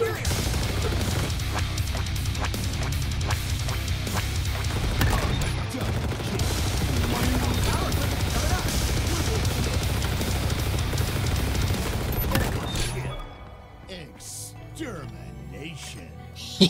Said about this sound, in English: So he's got multiple people shooting at him, but they're not able to fucking kill him.